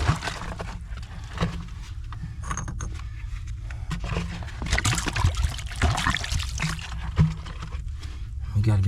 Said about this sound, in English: I'm just gonna clean my parts with some water.